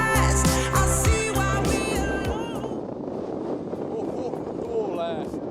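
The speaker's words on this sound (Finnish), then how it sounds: "Tuulee." Strong wind buffets the microphone on the coast at Hanko, Finland, a loud rushing roar with gusts, after a voice speaks briefly at the start.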